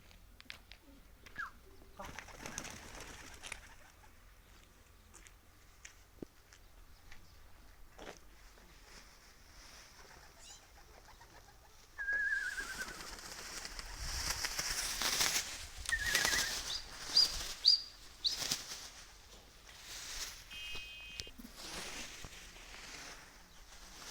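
Adana pigeons make soft intermittent cooing and occasional wing flaps, faint and sparse at first, then a louder burst of fluttering and shuffling movement in the second half, with no talk.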